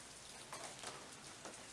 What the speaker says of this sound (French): la marche sous la pluie, là, c'est pas ce qu'il y a de mieux